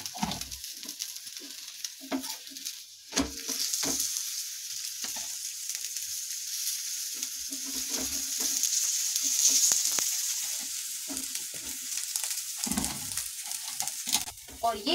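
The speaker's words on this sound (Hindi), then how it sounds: "अब मैं इस पे भी ऑयल लगा लूंगी और इसे भी मैं सेक कर तैयार कर लूंगी पराठे को" Aloo paratha for a Navratri fast sizzling in oil on a hot pan, a steady crackling fry that swells slightly partway through, with a few soft scraping touches.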